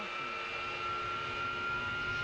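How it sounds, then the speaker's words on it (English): AV-8B Harrier jet engine spooling up during a cold start, a steady high whine over a low rumble, continuous and fairly close. "So now I'm going to boost up my engine power just a little bit in order to get my systems ready."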